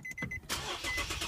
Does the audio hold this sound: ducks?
no